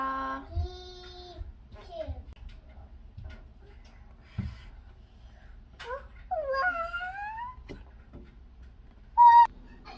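Short, high, tonal bird calls sound intermittently, some rising and falling, over low background noise, with one brief, louder call near the end.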